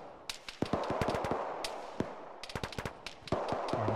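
Machine gun fire in a ShackTac military simulation session, sharp cracking bursts and rapid irregular shots echoing at mid distance, clustered in quick strings with brief pauses between them.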